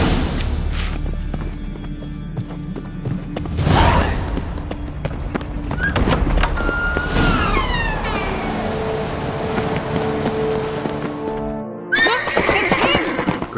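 Horse neighing and whinnying in The Witcher 3, with several loud whinnies and a rhythmic clip-clop of hooves amid game score and ambience, a final neigh near the end.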